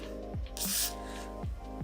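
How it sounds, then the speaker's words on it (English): A short hiss of spray product misted onto a lace wig, one brief burst in the middle over steady background music. "I'm just gonna spray this part."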